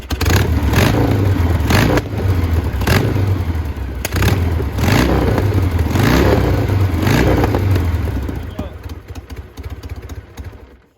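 1953 Triumph Thunderbird motorcycle engine, set up Mad Max style and too loud for the street, revs in repeated loud bursts with clattering mechanical noise, the rhythm rising and falling before trailing off near the end.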